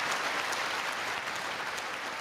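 Sustained clapping from the chamber audience at the 2023 State of the Union address, a broad, steady wash of many hands heard at a fairly soft, distant level without any talking.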